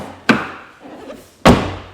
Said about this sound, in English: When you open the door, it just feels heavy. It feels like a solid door,